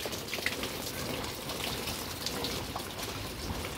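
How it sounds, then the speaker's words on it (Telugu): Guavas being washed in water, a steady close sloshing and trickling with small splashes throughout, no talking. "ఇంకా మన జాంకాయలు కూడా స్నానం చేపిద్దాం. అంటే బిఫోర్ వాష్ అన్నమాట."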